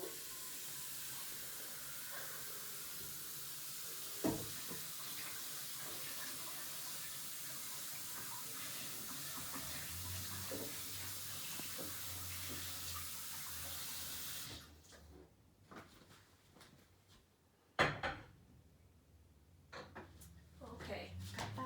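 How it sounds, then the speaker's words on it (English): Water runs steadily from a kitchen sink tap into a container as a constant broadband hiss, then cuts off, leaving a few clinks and quieter handling sounds; a voice is heard faintly at times. "I'm going to just put some water in this."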